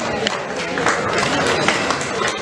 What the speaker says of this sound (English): Can we have a huge round of applause for all our winners?